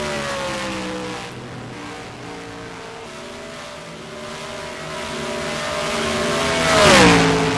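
A race car laps Chicagoland Speedway in a sim racing qualifying session, its engine holding a steady high drone down the back stretch before swelling louder and pitching up near the end, no voices.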